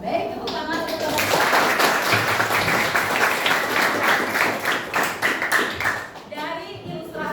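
Schoolchildren in a classroom clap for a man, a loud burst of rapid hand claps that builds quickly and runs for several seconds before thinning out, with voices heard briefly at the start and end.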